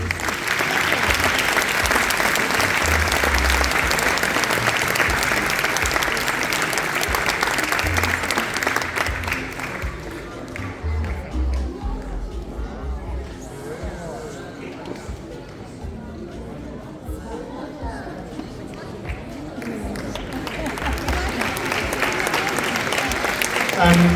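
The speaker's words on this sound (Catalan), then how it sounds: "jo crec que els consellers es mereixen un altre aplaudiment" A crowd at a Festa Major town celebration in Gurb claps loudly for about ten seconds, the applause fades into quieter murmuring and shuffling, then clapping swells again toward the end.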